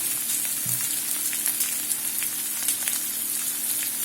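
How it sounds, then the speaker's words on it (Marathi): Ginger slices frying in a pan for egg chilli, giving a steady, close crackling sizzle with fine popping throughout. "आता यामध्ये आपण अद्रकचे काप टाकूया"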